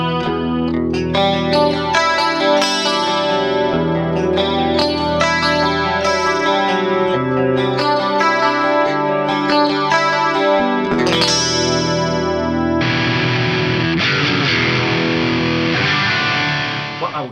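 An electric guitar plays ringing, effects-laden chords through a Fractal FM3 on a preset, sustained and heavy with chorus and distortion. Near the end the tone shifts to a different preset with no gap in the sound.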